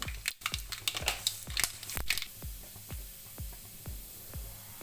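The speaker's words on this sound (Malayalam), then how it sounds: "കടുക് പൊട്ടി വന്നിട്ടുണ്ട്" Mustard seeds crackling and popping in hot coconut oil in a pan, a quick run of sharp snaps that thins to sparser, evenly spaced pops, fairly quiet and close with no talk.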